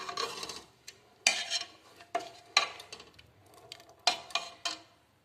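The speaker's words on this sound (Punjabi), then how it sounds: "ਚਲੋ ਜੀ ਆਪਾਂ ਦੂਸਰੇ ਬਰਤਨ ਵਿੱਚ ਕੱਢਦੇ ਹਾਂ ਸਬਜ਼ੀ ਨੂੰ" Black chickpea curry scraped and spooned from the cooking pot into another vessel, a series of close clanks and scrapes of a metal ladle against the pot rim, uneven and unhurried, with no voices.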